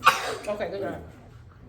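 A child's single sneeze, sharp and close at the start, followed by breathy trailing sounds and brief talk.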